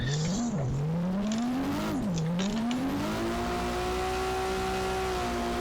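Close, loud car drifting around a corner of a canyon road in a racing game, the engine revving up and down in swooping pitch bends before settling into a sustained high drone, with tire noise underneath.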